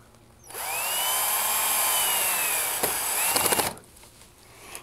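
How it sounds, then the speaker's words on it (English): A power drill drives a single screw into a porch screen base strip, whirring steadily for about three seconds, close and loud, then giving a brief ratcheting burst before stopping. "I'm gonna go ahead and put one screw in to hold this in place."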